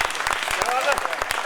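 Audience applause at a poetry gathering, a dense burst of clapping filling the short moment with steady, loud texture and no pauses.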